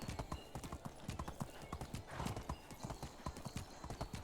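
A horse in the Medieval Dynasty video game trots with rhythmic, close clip-clop hoofbeats throughout, punctuated by a whinny and snorting, fairly loud and steady without talk.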